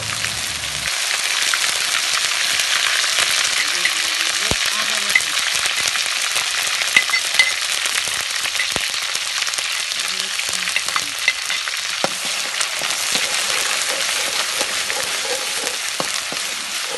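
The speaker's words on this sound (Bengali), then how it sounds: "এখন পেঁয়াজ বাটা ও আদা রসুন বাটা দিয়ে একটু নেড়ে চেড়ে লবণ সহ একে একে সব মশলা দিয়ে" Beef korma fries loudly in a pot with onion paste, ginger-garlic paste, salt and spices: an unbroken close sizzle punctuated by scraping and stirring clicks, with no talk.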